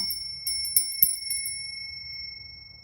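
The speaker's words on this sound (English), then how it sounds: "I feel the need to ring the bell." A small bicycle-style bell rings several times in quick succession, bright and close, then a sustained ringing tone lingers and slowly decays in an otherwise quiet room.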